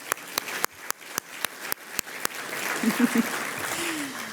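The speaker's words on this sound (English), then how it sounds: "I got to applaud that." Steady, evenly spaced hand claps ring out close by at a military families event, about nine sharp beats in a row, before a voice murmurs briefly at the end.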